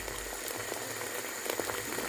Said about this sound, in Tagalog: Paliguan natin ng kumukulong tubig.